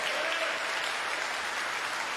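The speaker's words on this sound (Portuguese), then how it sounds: "estas palmas glorificam o nome do Senhor" Steady applause from a church congregation during a service, a dense, continuous wash of clapping with no voices over it.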